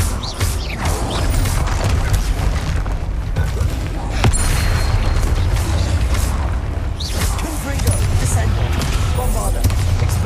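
Spell explosions in the Hogwarts Legacy video game, a dense, continuous barrage of booms and crashes with heavy low rumble, mixed with spoken spell incantations throughout.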